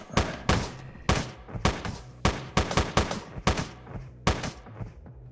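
Pistol shots in the top-down shooter Teleglitch, a string of sharp, punchy single reports at uneven intervals, roughly a dozen in all, close and loud with short decaying tails and no voices.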